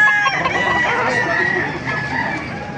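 Chickens cluck close by while a rooster crows loudly through the middle, the sounds overlapping in a busy farmyard.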